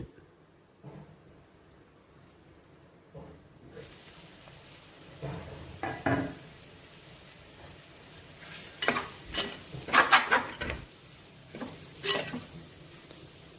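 A lid clatters back onto a cooking pot of beetroot and tomato pieces, with several sharp metallic knocks and scrapes over quiet simmering, the loudest clanks coming near the end.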